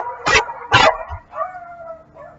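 Several dogs bark in a neighborhood, two loud close barks in quick succession followed by a softer whine-like yelp, with no talking.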